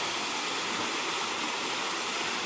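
Water gushes steadily from an irrigation pump motor into a groundnut field, a close, even rushing flow with no break and no voices.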